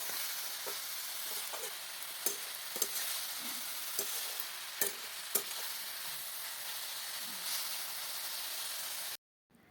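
Food frying in a pan on a home stove, a steady close sizzle and hiss with scattered crackles and stirring clinks throughout, no voices, ending abruptly.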